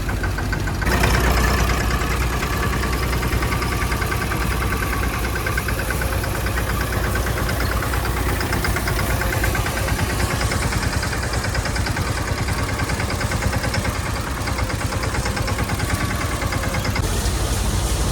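A loud, steady tractor engine idles with a constant low knocking rumble, running alone without pause throughout.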